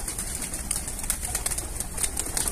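Racing pigeons are gathered and flown over a rooftop, with a constant rustling outdoor wash of birds and thin high chirps across the whole stretch.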